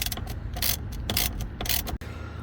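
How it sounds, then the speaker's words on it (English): A ratchet wrench clicks rapidly in bursts while backing out a 13mm bolt that holds the steering wheel of a Chrysler Town & Country, close up and loud, with a brief pause near the end. "you want to remove this 13mm bolt holding the steering wheel"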